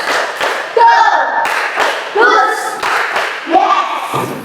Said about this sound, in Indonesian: Tepuk 1. Tepuk 2. Tepuk 3. Tepuk 1, 2, 3.